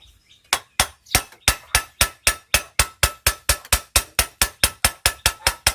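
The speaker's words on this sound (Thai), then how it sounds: "เคาะสักหน่อยเนาะให้มันลงไปสัก" A hammer taps a metal part while replacing a driveshaft center universal joint bearing on a 2006 Ford Ranger, in a fast, steady rhythm, about twenty sharp ringing strikes, loud and close.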